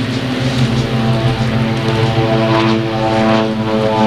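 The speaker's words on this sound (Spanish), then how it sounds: "Se mostrará además algunas naves o aviones de baja performance de instrucciones y también los aviones Twin Otter" Twin Otter propeller aircraft pass overhead during an air force ceremony parade in Peru, a loud, steady droning buzz of turboprop engines with no speech over it.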